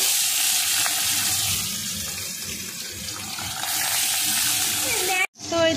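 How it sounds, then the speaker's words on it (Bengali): Fish sizzling in hot oil in a wok, a steady, dense crackle that holds throughout before cutting off abruptly near the end. "মাছ ভাজা হতে থাক"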